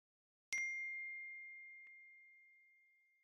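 A single bright computer notification ding on a Mac as a message pops up, struck once and ringing out in a long fading tone, clear and alone against silence.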